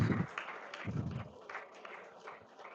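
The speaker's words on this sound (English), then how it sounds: "Big claps to that" Students in a first-year college classroom applauding together: a short burst of scattered hand claps from a group, fairly close, fading out over a few seconds.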